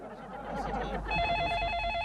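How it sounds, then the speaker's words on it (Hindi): A telephone starts ringing midway with a steady electronic tone, following a moment of muffled background sound, moderately loud in an indoor scene. "कितने दिनों बाद फोन बजा।"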